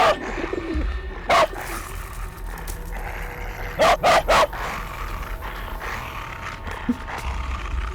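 Several sharp barks from a dog at mid distance, in a pair and then a quick cluster of three, over outdoor ambience with birds cooing and chirping.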